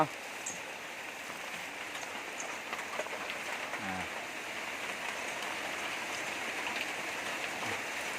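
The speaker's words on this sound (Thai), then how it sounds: "วันนี้ ฝนก็ ตก" Steady rain hisses continuously at moderate level, a dense wash of patter with faint voices and occasional thumps beneath it.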